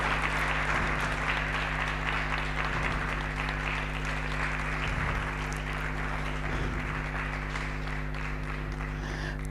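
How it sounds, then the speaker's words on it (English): Sustained audience applause at an alumni network gathering as a speaker walks on stage, a thick, steady wash of clapping from many hands with a faint voice underneath. "A round of applause, a round of applause,"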